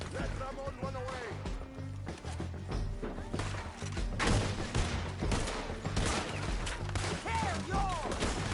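Gunfire breaks out in a Red Dead Redemption 2 shootout as a dense scatter of sharp cracks and bursts over several seconds, mixed with shouting voices, game music and other crashes.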